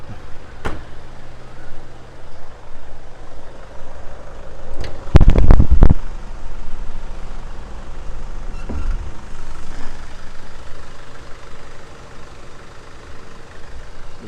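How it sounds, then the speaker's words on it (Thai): An Isuzu D-Max 2.5 Z Hi-Lander diesel engine idles with a steady low rumble, close by, broken midway by a brief loud burst of knocks, with no speech. "รถเครื่องดีเซลเสียงดังนิดนึงนะฮะ"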